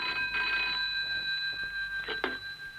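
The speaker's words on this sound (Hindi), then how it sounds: "हाँ है साहब, आपका फोन।" A telephone rings in short electronic bursts inside a radio drama scene, steady tones with a couple of brief pulses, heard fairly clearly over a quiet background.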